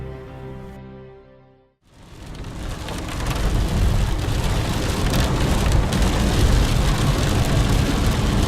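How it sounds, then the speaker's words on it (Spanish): Heavy, steady rain pouring down and drumming on surfaces, loud and continuous, building up after a brief fade from a musical passage. "La lluvia fue intensa"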